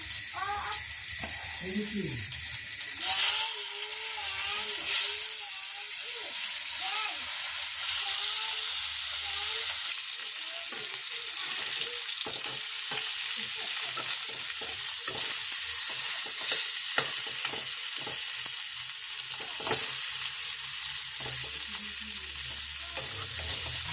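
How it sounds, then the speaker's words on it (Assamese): Fish frying in a pan gives a steady, bright sizzle that runs the whole time, with light scraping and stirring on top and a voice speaking intermittently over the hiss. "এতিয়া মই মাছটো ফ্ৰাই কৰি লওঁ"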